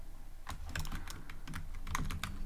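Close, rapid typing on a computer keyboard while coding in Python, with irregular clusters of crisp key clicks and no speech.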